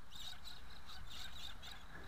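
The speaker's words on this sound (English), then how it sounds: "And the birds have come out to play." Birds calling outdoors, giving a regular series of high, thin chirps over a steady wash of background noise.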